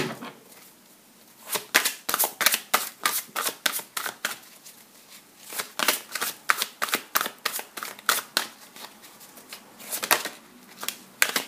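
Tarot cards are gathered and shuffled by hand in a long run of quick, crisp riffling bursts, each a rapid flutter of card edges with brief pauses between, close and clear with no speech.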